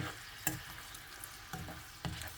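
Holy basil leaves stir-fried in a pan: a quiet, steady sizzle broken by a few short stirring scrapes, heard close with no talking.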